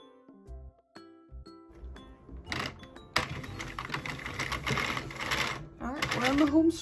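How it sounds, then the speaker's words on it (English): A Sentro knitting machine is cranked with waste yarn, first a few sparse clicks, then a fast, continuous rattling clatter of the mechanism close up, growing louder toward the end, with a short voice sound. "And then I'm just going to crank until I get to the end of my waste yarn."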